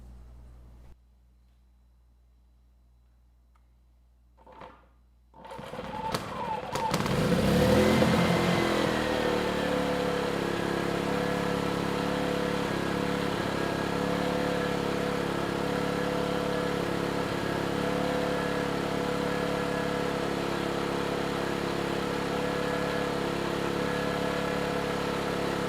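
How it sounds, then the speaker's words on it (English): ERAYAK 4500W dual-fuel inverter generator: a brief pull-start clatter, then the engine catches, surges loudly, and settles into a steady, even running drone that continues to the end. "then we'll try starting the engine"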